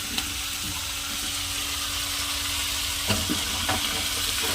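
Cut moringa drumstick pieces go into a hot pan of curry, giving a steady close sizzle with a few clacks and stirring sounds.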